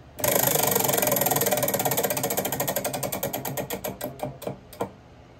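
Roulette prize wheel spun during a casino night game, its pointer ticking rapidly against the pegs and gradually slowing into widely spaced clicks before stopping, close and clear.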